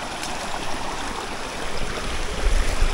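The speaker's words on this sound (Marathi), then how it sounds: "त्या साईडने मागे पाणी येतं आहे, ह्या साईडने पाणी येतं आहे आणि हे दोन्ही पाणी मिळून सरळ जाते." A forest stream flows in a continuous close rushing wash of water where two channels meet, growing slightly louder toward the end with no voices.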